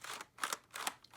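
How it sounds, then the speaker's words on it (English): The plastic bolt of a Lego SP-9 toy gun being pulled back, giving a quick run of close, crisp clicking and ratcheting scrapes in short bursts. "if you pull this back, the bolt can go down."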